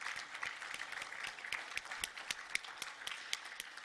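Audience at an agricultural expo panel on farm women clapping for the event organizers, sparse individual claps standing out over a quiet, thin round of applause.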